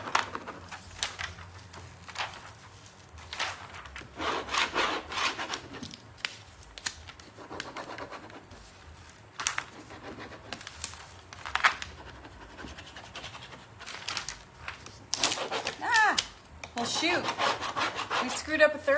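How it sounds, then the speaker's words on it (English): A flower transfer is rubbed onto a surface by hand, producing repeated dry scraping and rubbing strokes in irregular bursts, close and moderately quiet, with no talking. "So we're going to rub our transfer on."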